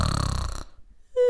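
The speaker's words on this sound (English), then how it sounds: "Then Mr. Fish heard nothing, just a symphony of snore" Snoring sound effect in a read-aloud children's story, a rhythmic rattling snore close and loud for about half a second, then silence before a short tonal sound.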